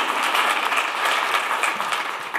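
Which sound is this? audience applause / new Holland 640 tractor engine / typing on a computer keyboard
audience applause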